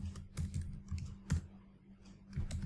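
Rapid keystrokes on a computer keyboard while writing Android code, a close, continuous run of clicky taps with brief pauses, no voices over it.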